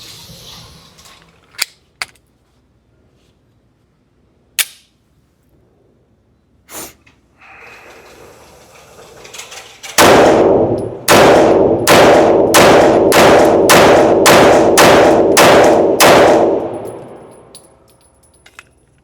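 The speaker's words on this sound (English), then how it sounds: "I am shooting just 115 grain CCI." A Shadow Systems CR920XP pistol loaded with 115 grain CCI ammunition fires about ten loud, close shots in a quick, steady string, after a few scattered sharp clacks.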